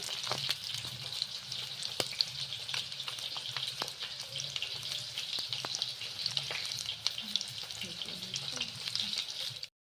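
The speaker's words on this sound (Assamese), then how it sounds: "ইফালে এয়া মাছখিনি মোৰ ভাজা হৈ গ'ল" Pieces of fish fry in a pan with a steady, close crackling sizzle and scattered sharper pops, continuing evenly for several seconds before cutting off abruptly.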